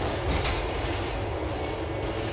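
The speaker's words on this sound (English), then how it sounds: "This is the A train." The A train, a subway train in the video game Liberty City, rumbles steadily along the track with a dense, continuous roar and no talk.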